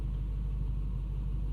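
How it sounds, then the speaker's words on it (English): A 1998 Lexus GS 400 V8 fitted with a new catback exhaust idles steadily, a low, even rumble heard close by with no talking. "we'll walk you around it, and you can hear the idle"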